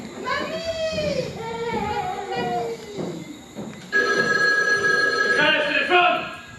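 Telephone ringing during a stage play adaptation of Le Magasin des Suicides, a steady repeated bell tone in the second half, heard over and between people talking on stage.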